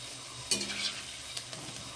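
Mango bara fritters deep fry in hot oil, Bengali village style, with a steady close sizzle and a brief clink of stirring near the start.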